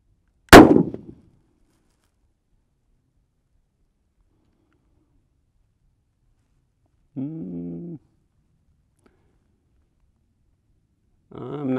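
A single Howa Oryx 6.5 Grendel rifle fires at a paper target: one loud, sharp crack with a quick decay, then long silence broken by brief low voiced sounds.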